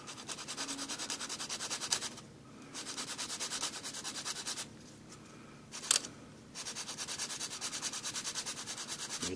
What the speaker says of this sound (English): while I have my sanding stick in my hand